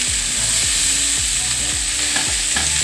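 Green chillies, garlic and potato pieces fry in a pan with a steady loud sizzle while a utensil stirs them in repeated scraping strokes, close and continuous with no talking.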